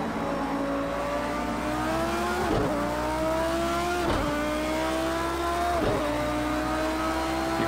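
Lamborghini Super Trofeo race car in Project Cars 2 at full throttle, its engine wailing steadily upward through the gears with three sharp dips at each upshift, loud and continuous with no talk.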